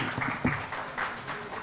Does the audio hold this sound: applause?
yes